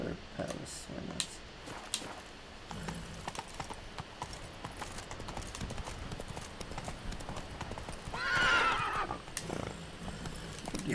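Roach, the horse in The Witcher 3, gallops with rapid rhythmic hoofbeats and lets out a loud whinny partway through, while game voices talk over the gallop.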